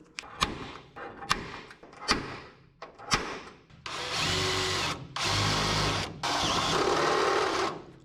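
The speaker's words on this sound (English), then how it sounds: "And then we're gonna drill us a couple holes and nut-zert that." A power drill bores holes in the steel hood of a 1967 Toyota Stout truck, first in several short sharp bursts, then in longer sustained whirring runs with brief pauses between them.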